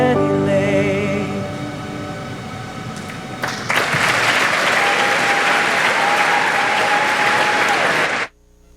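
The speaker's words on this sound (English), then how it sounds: "Let's give the Yale Choir another round of applause, please." An audience at the 2019 Yale graduation gives the Yale Choir sustained applause. Music fades out first, then dense clapping swells and holds steady until it stops abruptly.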